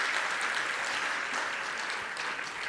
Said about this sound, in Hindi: एक बार मोदी जी का जोरदार करतल ध्वनि से अभिनंदन करना